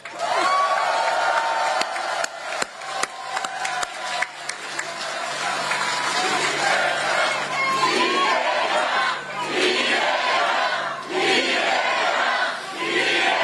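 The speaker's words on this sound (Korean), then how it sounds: "박수 한번 쳐주세요." Outdoor crowd at a campaign rally in Dangjin's market applauding and cheering, a dense loud wash of clapping mixed with shouts and chatter throughout.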